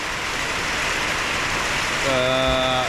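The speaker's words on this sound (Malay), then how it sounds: "Semalam cuaca okey, ni hujan pula kan. Jadi tu lah, lebat jugalah." Heavy rain pours down outdoors on a rainy-season day before a fishing trip, a dense, loud, constant hiss, with a faint tonal sound rising in near the end.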